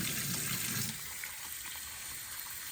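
Water runs into a kitchen sink as potatoes are rinsed under the tap, a steady close splash that swells briefly at the start and then settles into an even flow with no voices.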